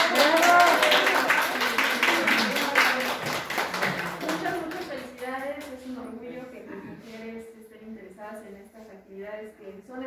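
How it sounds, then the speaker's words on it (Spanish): An audience gives scattered hand clapping and taps, loud at first and then thinning out, mixed with talk and voices that carry on after the applause fades. "un aplauso a todos. ¡Bravo!"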